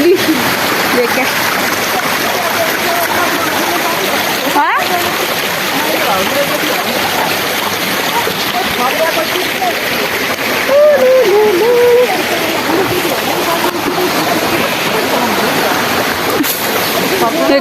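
River water rushing and splashing steadily over a stream bed outdoors, a constant loud wash of flowing water, with voices talking intermittently over it.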